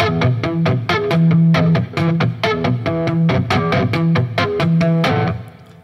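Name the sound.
percussive hitting of electric guitar strings by hand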